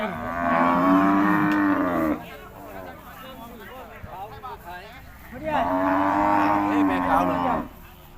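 Cattle at a cattle market in Kantharalak, Thailand, giving two long, loud, close moos separated by a pause filled with quieter background chatter and market noise.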